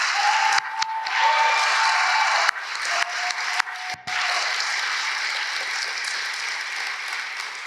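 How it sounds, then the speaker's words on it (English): Audience applause at a centennial address, broad steady clapping from a large room with a few brief dips and interruptions, holding fairly loud and then tapering slightly toward the end. "Let's give a round of applause for Mario."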